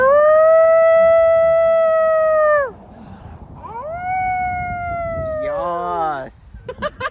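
A person imitates a wolf howl with their voice: a long, loud, sustained tonal howl that falls off, a brief pause, then a second rising-and-falling howl ending in wavering pitch, with a few short voiced sounds trailing after.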